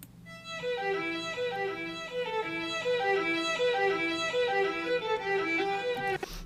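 A sampled Embertone Friedlander solo violin plays a smoothly slurred legato melody, notes gliding into one another without bow breaks, steady and full throughout with a faint knock at the very end.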